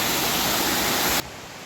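A waterfall at DeSoto Falls in the Chattahoochee National Forest, North Georgia, gives a dense, steady roar of rushing water that drops abruptly to a quieter hiss near the end.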